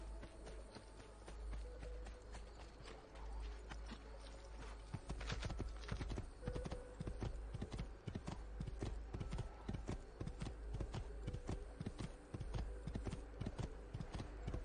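Horse hooves clip-clop at a steady gallop in the video game Assassin's Creed II, a fast, even rhythm of hoofbeats that starts softer and grows more distinct, with faint background game sounds.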